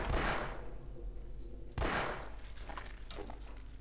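Two sharp, close gunshots from Half-Life crack out about two seconds apart, each trailing into a short echoing decay, with a few lighter clatters after the second.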